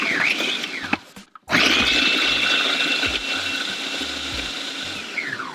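A food processor chops cabbage slaw with a loud, close, whirring motor drone that cuts out briefly, then restarts and runs steadily before spinning down at the end.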